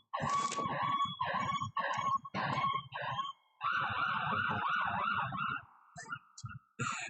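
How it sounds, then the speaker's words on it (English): Emergency sirens wailing as vehicles pass by outside, rising and falling in repeated sweeping cycles, fairly loud, with brief gaps between passes. "The sirens going by and stuff."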